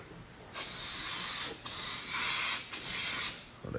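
Black rubbery undercoating is sprayed from a spray gun under a vehicle in three steady hissing bursts, each about a second long, loud and close, separated by brief pauses.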